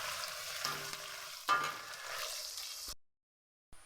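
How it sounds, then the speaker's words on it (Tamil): Onions with curry leaves sautéing in a pan for a bitter gourd and field bean kara kuzhambu: a bright, steady sizzle with a stirring scrape, cutting to silence after about three seconds. "ப்ரௌன் கலர் ஆகிற வரைக்கும் வதக்கிட்டு கருவேப்பிலை போட்டுக்கலாம்"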